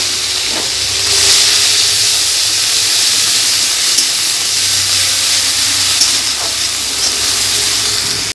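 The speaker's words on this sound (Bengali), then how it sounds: "আর এই তেলে দিয়ে দেবো পেঁয়াজ বাটা" Onion paste hits the hot oil left from frying fish, making a strong, steady hiss and sizzle that rises early and continues loudly and evenly to the end.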